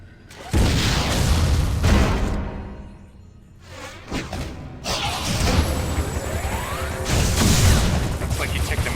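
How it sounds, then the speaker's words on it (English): A missile blast booms in the Wii game Metroid Other M, a loud explosion followed by rumbling mechanical crashes and whooshing debris that swell and fade across several seconds. "Why not say hello with a missile?"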